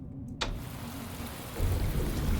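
Rain falls in the city streets of the detective game Shadows of Doubt as a steady, moderately loud hiss, with a short click near the start and a heavier wash of rain building toward the end.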